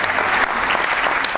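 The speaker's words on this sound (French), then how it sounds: "Applaudissements et bravo" An audience at an award ceremony in Aveyron applauds loudly and close as a hairdresser from Villefranche-de-Rouergue is honoured. The clapping is dense and continuous throughout the short stretch, with no distinct cheers standing out.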